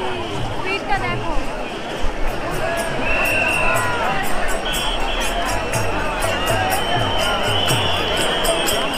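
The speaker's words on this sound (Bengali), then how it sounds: "ভিড়টা দেখো।" A vast festival crowd at the Puri Jagannath Rath Yatra 2024 fills the air with a dense, continuous roar of chatter and shouts, with occasional cheers and high whistle-like tones rising over the steady din.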